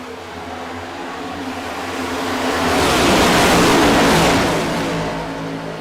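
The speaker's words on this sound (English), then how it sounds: "Di Pasquale coming up through the gears" Race cars climb through the gears at Daytona in a racing video game, a loud broadband engine roar swelling to a peak midway and easing off, with no talk over it.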